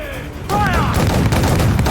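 Ship's cannons boom in Assassin's Creed IV Black Flag, loud rolling blasts that break in halfway through right after a shouted command, then continue as a heavy, dense rumble.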